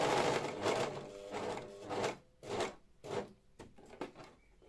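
Domestic sewing machine stitching a length of fabric while sewing an asymmetric skirt, heard in several close mechanical bursts of whirring with short pauses between runs, and no talking.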